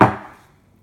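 A single sharp bang of a soap mold struck on a hard counter, with a quick decaying ring afterward.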